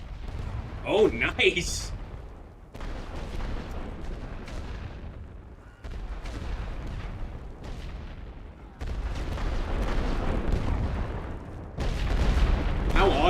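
Artillery fire in the WW1 video game The Great War: Western Front: heavy booms land about every three seconds, five in all, each rumbling on. Someone talks over the barrage.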